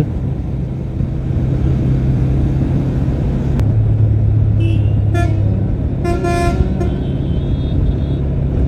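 A bus approaches from behind a TVS Apache RTR 160 4V motorcycle on a long highway ride and honks several short toots midway, over steady loud road and wind noise.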